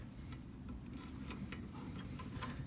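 Wrench work on the bolts of a battery tray base on an AMF-era Harley-Davidson Shovelhead Lowrider, with steady mechanical ratcheting and faint metallic clicks over a constant low hum, close by and fairly quiet.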